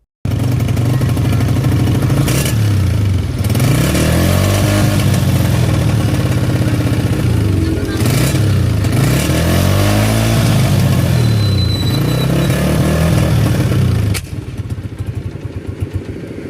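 A Honda 125 motorcycle engine idles steadily and loudly up close, a low rhythmic thumping with clattery undertones, running until its carburetor empties of petrol; the beat roughens and weakens near the end.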